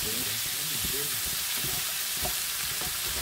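Peppers fry in a pan with a steady, bright sizzle and crackle, broken by occasional stirring scrapes, while a voice speaks faintly underneath.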